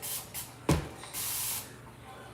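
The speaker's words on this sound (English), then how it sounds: "We're gonna spray that with some water." A plastic spray bottle squirts water onto a chalk drawing, giving several short, close hissing bursts with sharp trigger clicks in between.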